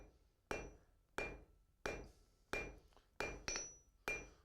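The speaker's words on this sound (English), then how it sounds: "Hammering, turning back and forth will compress the steel." Blacksmith's hammer striking steel as it is turned back and forth, six loud ringing blows at a steady, unhurried rhythm, each ringing off briefly before the next.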